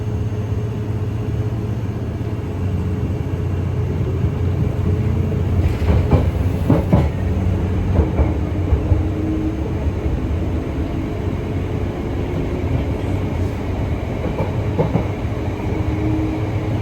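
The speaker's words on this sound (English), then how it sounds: "Please mind the gap between the train and the platform" A London Underground Piccadilly line train runs with a continuous low rumble and hum, overlaid by intermittent rattles and clicks of the carriages, heard from inside the moving car.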